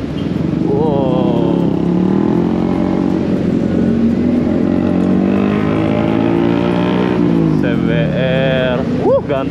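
Loud, close engine rumble with rising and falling revs from several big motorcycles, people talking over it.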